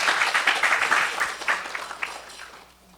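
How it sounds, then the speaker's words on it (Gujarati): Audience at a Saturday religious katha gathering applauds the swami, a burst of hand clapping that is strongest at first, then thins and fades out by the end. "એ બદલ આપણે તાળીઓથી એમને વધાવીએ."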